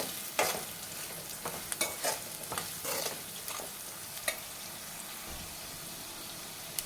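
Spoon stirring turmeric into a potato and tomato curry in a pan, faint scraping and soft sizzling with several sharp clicks and scrapes at irregular intervals, no talk.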